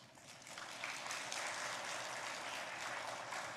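A church congregation applauding during a Sunday sermon, faint and distant, a steady wash of clapping throughout.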